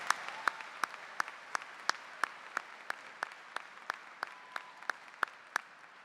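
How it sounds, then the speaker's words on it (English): A few people at a graduation ceremony clap slowly, giving distinct, evenly spaced claps that sound distant and fairly quiet against a hushed room. "Please join me in a round of applause."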